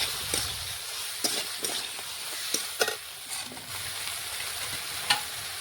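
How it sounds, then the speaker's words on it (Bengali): Vegetables being stirred in a pan: steady soft sizzle of frying, broken by a few sharp scraping strokes at irregular intervals, close and moderately quiet, with no talking. "এই দেখুন, আবারও নাড়াচাড়া করে একটু রান্না করে নিচ্ছি সবজি।"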